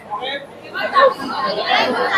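Chatter from a busy food court crowd with Starbucks, Amul and ice cream counters fills the space as a dense, close babble of many voices that stays steady throughout.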